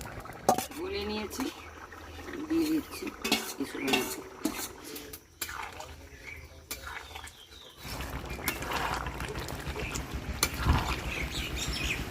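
Potatoes are lifted out of a cooking pot of jackfruit and prawn curry with a metal spoon. It scrapes and clinks repeatedly against the pot while a cook talks over the kitchen noise.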